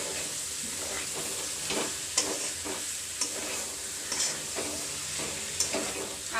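Boiled jackfruit fries with ground spices in a hot pan, a loud steady sizzle broken by regular scraping stirs about once a second, close up and without speech.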